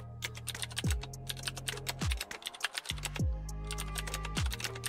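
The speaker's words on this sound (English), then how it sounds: "Now, type your prompt to create a product photo shoot image." Typing on a computer keyboard: fast, close, continuous key clicks in uneven runs, with a short pause near 3 s and then more rapid tapping.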